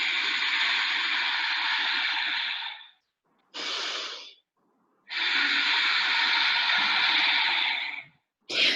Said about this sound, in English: you partially squeeze your throat closed to create a whispering sound at the back of the throat